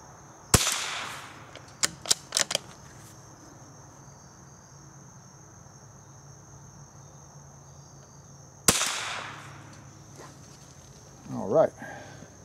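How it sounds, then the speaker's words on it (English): Two sharp, loud reports from a Remington subsonic .22 plated hollow point cartridge fired from a rifle, about eight seconds apart, each a crisp isolated crack over a steady background of insect chirping outdoors, with a few small clicks between. "So let's take a few shots here real quick."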